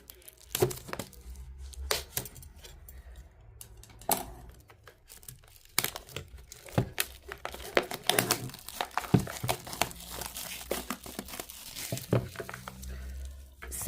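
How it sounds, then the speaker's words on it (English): Cellophane wrapping is peeled and crumpled off a Lenormand oracle card deck, giving continuous close, crackling crinkles and small tearing bursts throughout. "let's quickly take the cellophane of this before I do my comparison"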